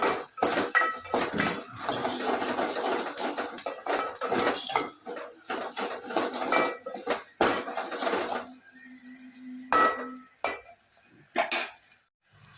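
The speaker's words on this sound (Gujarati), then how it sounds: "સરસ બધું મિક્સ કરી લઈએ." Masala gravy being stirred and mixed in a metal pan, with repeated scraping and clinking of a utensil against the pan and a light sizzle underneath, close up and fairly loud, without talk.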